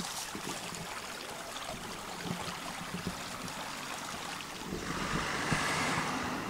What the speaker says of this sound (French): une rivière très simple avec un petit peu de végétation sur le bord, des cailloux qui font une petite cascade